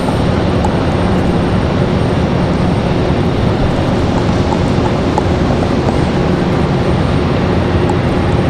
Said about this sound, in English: FedEx getting ready to make their left-hand turn to come in here